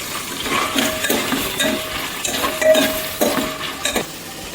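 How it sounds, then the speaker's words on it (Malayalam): Two handfuls of peeled small onions fry in a pan for a squid roast, giving a loud, busy sizzle with rhythmic scraping and metallic clinks from a stirring utensil, about one stroke every half second, and no talking. "പിന്നീട് ചെറിയുള്ളി കുറച്ച് 2 പിടി ഉള്ളി തോല് കളഞ്ഞ് അത് ഇട്ട് വറക്കുക"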